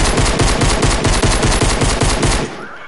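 Rapid automatic gunfire rattles loudly and continuously in a video game for over two seconds, then cuts off abruptly into near quiet.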